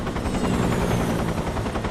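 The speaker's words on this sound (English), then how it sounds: "take a minute to hide from the helicopter" A helicopter in the Metal Gear Solid 3: Snake Eater video game thumps with a loud, fast, steady rotor chop throughout, heard on its own.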